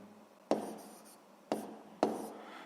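Pen strokes write down the answer to a 7th-grade physics problem, three short scratchy bursts close to the microphone, separated by brief pauses.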